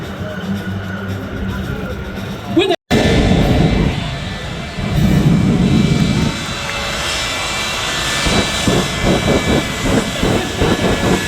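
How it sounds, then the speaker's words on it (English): A KC-46 Pegasus tanker aircraft flies over the Wings Over Wayne airshow at Seymour Johnson, giving a loud, continuous engine roar that swells and fades, with crowd noise and a public-address voice underneath. "It's the KC-46 Pegasus."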